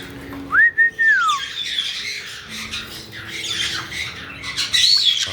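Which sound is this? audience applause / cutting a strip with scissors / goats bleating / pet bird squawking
pet bird squawking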